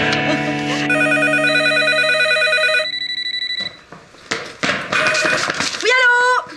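A telephone bell rings loudly in repeated electronic trills on a French TV comedy set, then stops, and a woman picks up and begins talking.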